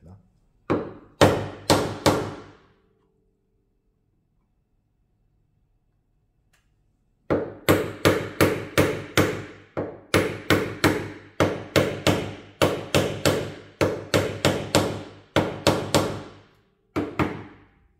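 Hammer blows on a chisel chopping a mortise in very hard wood, sharp close knocks in quick rhythmic bursts, a short run, a long pause, then a steady sequence of repeated strikes.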